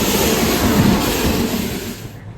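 A train rumbles loudly and steadily at Varkala railway station, very close, with a continuous rolling roar that eases off slightly at the very end. No one speaks.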